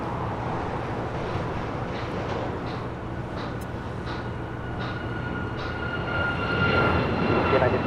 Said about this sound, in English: This is United Airlines 1621 taking off to Orlando on a MAX 9.